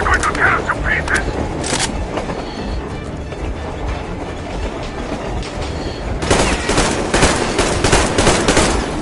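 Gunfire in Metro Exodus rattles in dense bursts over a loud, chaotic battle din, with shouting voices mixed in throughout.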